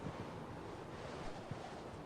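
Rising sea in the Sherlock Holmes: The Awakened game, a faint, steady wash of surf and wind with a broad, hissing roar and no talk.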